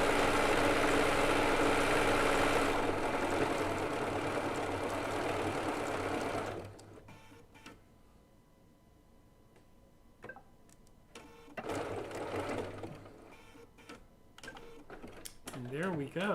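A Bernina B990 sewing machine stitches a decorative stitch onto quilt binding with a steady, dense mechanical whir for about six seconds, then stops, leaving quieter handling clicks and a brief speaking voice.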